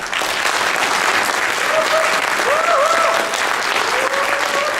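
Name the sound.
audience applause at a general meeting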